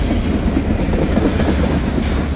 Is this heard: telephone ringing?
no